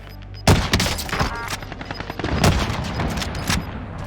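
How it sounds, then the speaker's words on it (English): Gunfire in Call of Duty: Warzone with a 1911 pistol loadout: a loud burst opens the clip, then scattered shots and crackling fire carry on, with fresh sharp reports near two and a half and three and a half seconds. "I waited for you to start firing then,"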